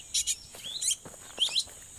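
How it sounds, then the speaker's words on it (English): A scarlet-rumped tanager calls outdoors, short bright chirps and rising sharp notes in a few quick bursts, clear but moderately distant against a quiet background. "That sounds like the scarlet-rumped tanager."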